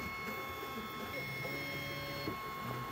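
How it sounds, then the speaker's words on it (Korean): Hotend cooling fan inside the head of a Flashforge AD5X multicolor 3D printer gives off a thin, steady high-pitched whine, constant and fairly faint, over a soft mechanical hum. "헤드 내부에 핫엔드 쿨링팬이 돌면서 나는 소리 같은데요"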